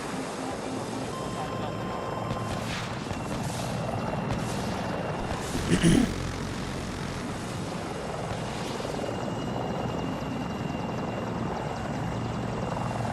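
In Battlefield 2042, a helicopter drones loudly and continuously with a steady rotor chop. A brief thud comes midway, and voices can be heard under the noise.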